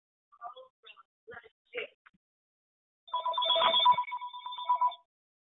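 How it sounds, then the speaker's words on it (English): A telephone rings in the middle of an office presentation, a loud electronic trill lasting about two seconds after a few short spoken words. "the phone rings in the middle of a presentation"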